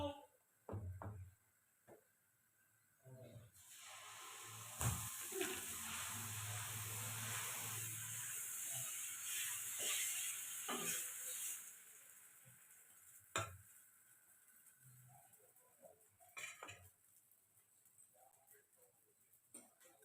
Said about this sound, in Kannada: ಮೊದಲಿಗೆ ದೋಸೆ ಬಿಡಣ